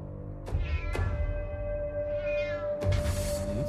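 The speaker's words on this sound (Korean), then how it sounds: "계속 집 주변에서 고양이 울음소리가 들린 겁니다" A cat meows near a house, three drawn-out, plaintive cries in a row, fairly clear and without talk.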